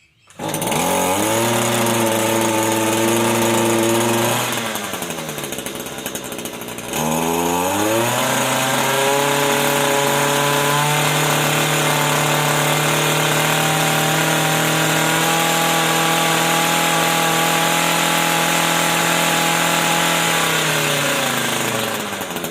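Shindaiwa T236TS brushcutter's small two-stroke engine fires up and runs loud and close, a steady buzzing drone that dips briefly, revs back up and holds, then eases off near the end.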